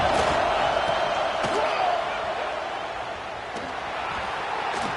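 Stadium crowd in the College Football 26 video game, a dense, loud and sustained roar of cheering fans with a few sharp thumps, steady throughout with no pauses.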